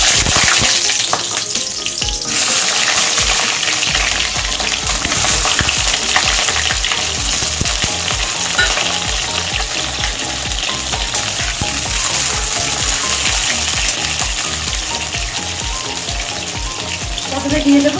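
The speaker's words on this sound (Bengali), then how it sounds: "তেল গরম হয়ে গেছে। পটলগুলো ভেজে নেব।" Scored pointed gourds (potol) fry in hot oil with a loud, dense, crackling sizzle that goes on steadily, close to the pan, with occasional spatters and light stirring and no voices.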